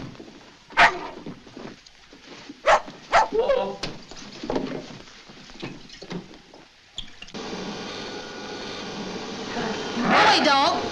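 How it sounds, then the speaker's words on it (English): A dog barks in sharp, separate bursts in an old comedy film scene, mixed with people talking and some splashing noise. "Go away, dog. Go away."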